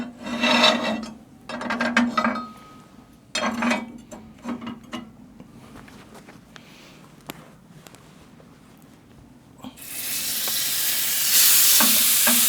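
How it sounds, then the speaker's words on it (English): A beef steak laid onto a hot panini toaster, with clattering, scraping and rattling handling noises first, then a loud continuous sizzle rising sharply near the end as the meat sears. "So let's get the lid off and let's get the steak on"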